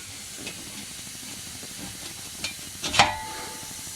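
A spray can hisses under a 2018 Silverado pickup during a Flowmaster Outlaw exhaust install, a short sharp burst of spray near the end over a steady low background hiss.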